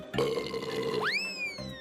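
A long, low cartoonish burp rumbles for about a second, then ends in a rising, springy twang that trails off.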